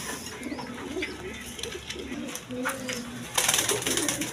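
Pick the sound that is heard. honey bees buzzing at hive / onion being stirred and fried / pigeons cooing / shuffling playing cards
pigeons cooing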